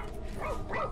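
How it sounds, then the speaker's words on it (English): Robot dog companion in the video game ReCore barks twice in quick succession, synthetic-toned yips standing alone over a steady game ambience. "barking at something"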